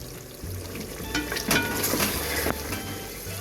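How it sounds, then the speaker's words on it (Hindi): Meat sizzles as it fries in a pan for a Gobhi Gosht curry, a steady close crackle with a few stirring clinks and scrapes over the hiss. "अब गोश्त को मैं अच्छी तरह भून लूँगी।"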